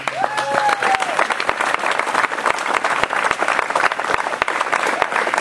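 An audience applauds an honorary committee at a Leadership Morgan Hill tribute event. The clapping is dense, steady and loud throughout, with a brief whistle or vocal tone rising near the start.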